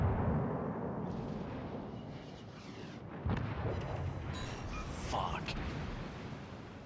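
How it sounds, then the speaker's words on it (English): Naval gunfire in World of Warships Legends, a rolling series of booms and impacts with a sharp thump near three seconds, continuous and fairly loud under gameplay rumble. "No, somebody else is shooting at me from my front."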